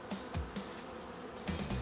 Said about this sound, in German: Weil jetzt echt viele Bienen sind.